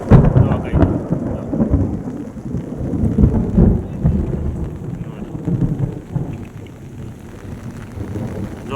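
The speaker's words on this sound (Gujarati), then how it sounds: "જોરદાર વરસાદ દાદોડિયા ગામ" Heavy monsoon rain pours down in a village during the first rain of the season, a loud dense roar with deep rumbling thunder rolling through. No one speaks.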